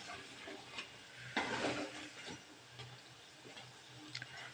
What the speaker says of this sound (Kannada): ಕರಿತಾ ಇದೆ ಇನ್ನು.